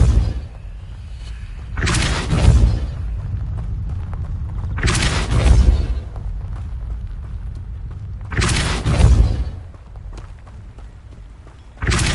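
Depulso force spell cast repeatedly in the Hogwarts Legacy video game, heard as three loud, deep booming whooshes with heavy low thuds, spaced a few seconds apart over a steady rumbling game ambience.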